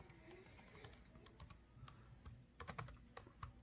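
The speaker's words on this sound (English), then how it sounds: "Sorry, I'm typing with one hand." Quiet, irregular keyboard typing done one-handed while modelling in Fusion 360, with soft scattered key clicks and a few sharper bursts of taps near the end, alone without speech.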